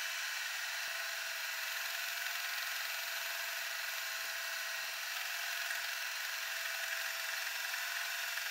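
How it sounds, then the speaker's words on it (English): A drill bores the center hole for a 3/4-10 tap in a 1-inch steel plate, giving a steady, high, continuous whine that holds evenly throughout, with no talking. "I can go ahead and drill the hole in the center for the tap that I'm gonna do."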